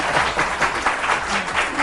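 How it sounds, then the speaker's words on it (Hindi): Studio audience applause on a television talk show, a dense steady clatter of many hands clapping together throughout, loud and close with no talking over it. "तो आपने जबरदस्ती उनसे तालियां बजवाई।"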